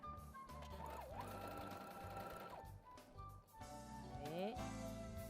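A sewing machine stitches a seam with a steady mechanical whir that runs close and continuous, briefly slowing and then picking up again, with a motor pitch that rises and falls as it speeds and slows.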